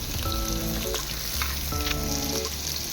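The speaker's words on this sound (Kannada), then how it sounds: "ಈರುಳ್ಳಿ ಎಲ್ಲ ನೀಟಾಗಿ ಫ್ರೈ ಆಗಬೇಕು" Sliced onions fry in hot oil for a potato chicken curry, giving a steady, close sizzle with occasional stirring scrapes throughout and no talking.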